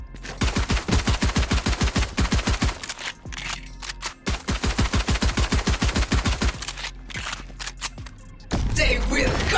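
Rapid automatic gunfire from the game Valorant during Reyna's ultimate: loud bursts of quick, evenly spaced shots, broken by short pauses, then a final whooshing ability sound; no talk.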